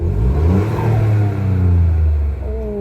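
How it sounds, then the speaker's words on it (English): A 2022 Ford Fiesta ST engine revs up loudly and steadily close by, its pitch climbing and holding through the blip before easing off near the end, with no voices over it. "Let's give it a bit of a rev."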